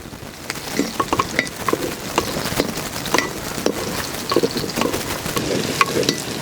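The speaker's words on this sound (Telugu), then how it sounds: "చిన్నగా కట్ చేసుకున్న క్యారెట్ ముక్కలు కూడా వేస్తున్నాను" Chopped carrot pieces tumble into a hot pan while cooking tomato bath, bringing a soft crackling sizzle with scattered clinks and light stirring scrapes of a utensil against the pan, close and moderately loud.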